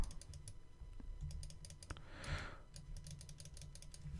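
Soft, faint clicks of keys pressed on a computer keyboard during photo editing, a quiet scattered series of taps with a brief swell of hiss in the middle.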